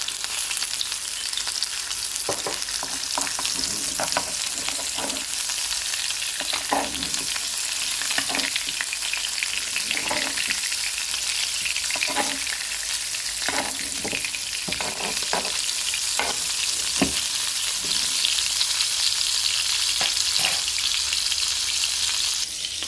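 Salmon pan-frying in butter sizzles steadily and loudly throughout, with scattered crackles and pops and occasional stirring clicks, no voices.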